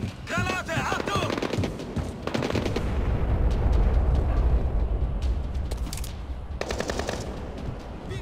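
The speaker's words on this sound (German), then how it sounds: "Splittergranate los! Granate, Achtung!" Frag grenade and gunfire in the Splinter Cell: Blacklist video game: rapid automatic bursts rattle over a heavy rumbling explosion that swells and fades, and more gunfire breaks out near the end.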